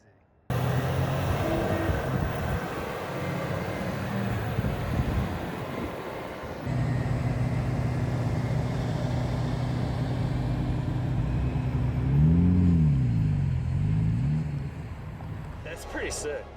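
Huge off-road mining trucks roll past on a dirt route, a loud continuous heavy engine roar and rumble that shifts and swells as they pass close by, with a rising whine near the end.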